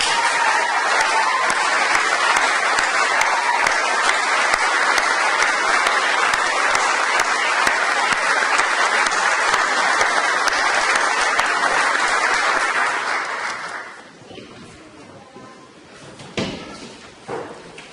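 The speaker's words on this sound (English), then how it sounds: "please stand for a deserved round of applause" A large audience at a college awards ceremony gives graduating design and technology education students a long, loud, dense round of applause that stops abruptly, leaving scattered thumps, rustling and low room noise.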